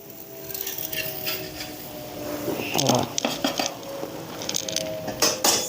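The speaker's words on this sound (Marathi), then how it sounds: "आता एका ताटामध्ये काढून घ्यायचंय" Fried millet-flour snacks are lifted out and set onto a plate, with close clinks and scrapes of utensils against metal dishes over a steady background hiss.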